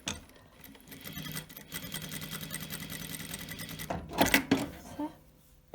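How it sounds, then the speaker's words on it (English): A sewing machine stitches up a small gap in a kimono-style robe, running with a steady mechanical whir for several seconds before stopping with a few handling clicks and thumps near the end. "you could go onto the machine and just sew that up, which I think I'll do now"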